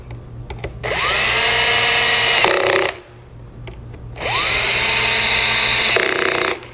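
A power drill drives screws into a Yamaha Arius digital piano during assembly, with two long, loud whirring runs of about two seconds each, both starting with a rising spin-up and separated by a brief pause.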